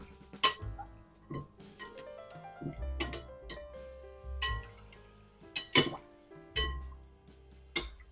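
A spoon stirring salt into hot water in a bowl, giving bright, irregular clinks and ringing taps of metal against the dish, close and clear with no talking.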